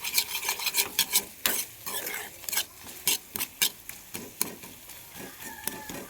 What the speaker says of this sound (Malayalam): മഞ്ഞൾപ്പൊടിയിലൊക്കെ ആ ഒരു പച്ചമണം മാറുന്നവരേ വഴറ്റിക്കൊണ്ടുപോകാം കേട്ടോ